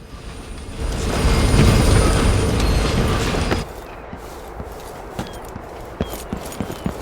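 A train in the video game Dishonored 2 rumbles past loudly for a few seconds, then drops away to quieter clanking and sparse metallic ticks.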